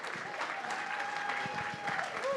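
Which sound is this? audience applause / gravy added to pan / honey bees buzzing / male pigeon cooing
audience applause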